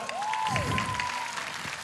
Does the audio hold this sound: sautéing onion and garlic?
no